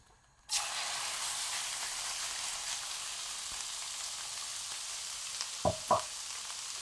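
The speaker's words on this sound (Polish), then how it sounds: "To co, smażymy." Food dropped into heated oil on a gas stove, a sudden steady sizzle that keeps going with no break, followed near the end by two short clinks of a utensil against the pan.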